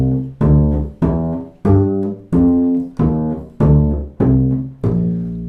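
A bass guitar plays a bluegrass walking line of about nine evenly spaced plucked notes that step up and then back down, each one decaying before the next, alone and close.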